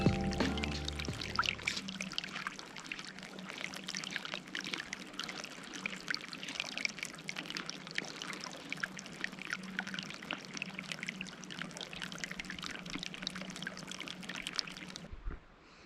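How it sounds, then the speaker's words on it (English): A waterfall on a hiking trail near Breckenridge, Colorado, as a steady, dense rush of falling water that holds at an even level throughout, with a brief knock at the start and no talking. "I'm hearing like a waterfall or something that way"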